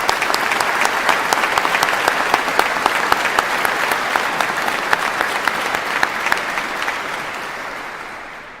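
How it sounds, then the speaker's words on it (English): A graduation ceremony audience applauds loudly with steady, dense clapping that fills the hall for several seconds, then gradually tapers away. "Can we give the Student Union a really good round of applause?"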